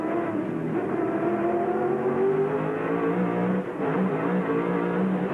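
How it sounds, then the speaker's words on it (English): Touring race car engines at Calder Park circuit scream and rev continuously, pitch rising and falling through gear changes as the cars pass at moderate distance, with no voices. "Just have a listen to these engines work."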